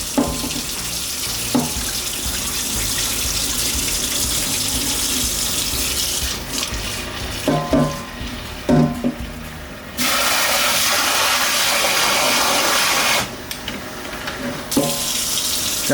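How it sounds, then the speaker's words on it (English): Rice is rinsed under a running kitchen tap, a loud steady stream of water with brief interruptions and clattering splashes as the grains are swirled and the tap is shut off and reopened. "You always got to rinse the rice."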